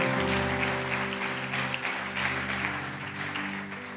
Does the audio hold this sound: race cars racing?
no